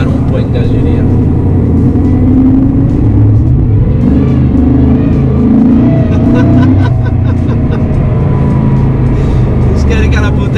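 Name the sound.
Mercedes SLR McLaren engine revving in a tunnel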